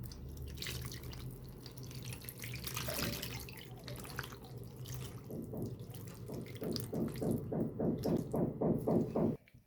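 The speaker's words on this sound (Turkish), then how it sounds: "Hazırladığım domates sosu patlıcan üzerine döküyorum" Homemade tomato sauce poured over eggplant in a pot, a close liquid splashing and trickling, rising into a rhythmic glugging pour toward the end before stopping abruptly.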